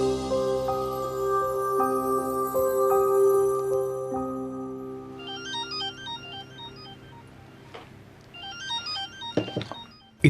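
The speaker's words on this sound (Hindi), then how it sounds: "इतनी रात को क्यों फोन कर रहा है?" A telephone rings late at night with a steady, repeating electronic ringtone, loud and close, several regular rings before the pattern breaks into brighter chiming tones toward the end.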